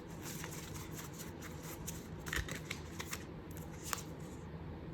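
Tarot cards shuffled by hand, a continuous close riffle of rapid papery flicks and soft patter with no talking.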